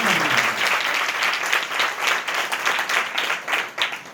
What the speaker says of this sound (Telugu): గట్టిగా చప్పట్లు కొడుతుంది